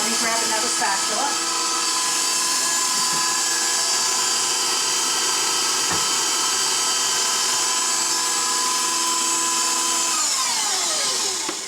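Electric mixer whirring steadily through honey and sugar cupcake batter for whole wheat banana and carrot cupcakes, loud and close, a continuous high motor whine with a brief knock midway.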